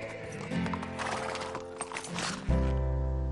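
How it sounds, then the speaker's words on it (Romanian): Cartoon horses being herded toward a farm: a quick run of clip-clopping hooves leads into a loud, drawn-out neigh near the end, with no talking over it. "Acum să îndrumăm caii spre fermă, unde vor primi hrană."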